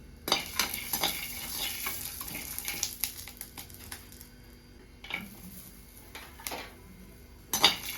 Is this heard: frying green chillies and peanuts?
yes